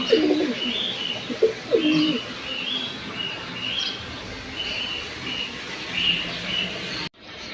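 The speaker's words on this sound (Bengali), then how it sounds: "আমার এই কবুতরটা হলো নর কবুতর" A male pigeon coos from inside a cage in repeated soft, throaty phrases at close range, with a few faint chirps and light background noise.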